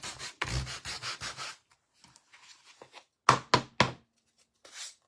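A chunky wooden Uncle Sam hat being sanded by hand. Close, rough rubbing strokes come first in a quick series, then after a quiet pause three sharp strokes and a final softer one.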